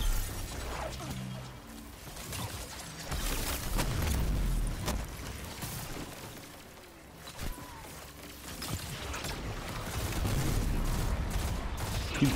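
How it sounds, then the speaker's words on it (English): Gunfire from Destiny 2 cracks in rapid, irregular bursts amid a dense, chaotic wash of game combat noise, loud and continuous with sharp impacts standing out. "Keep shooting him, he's almost dead."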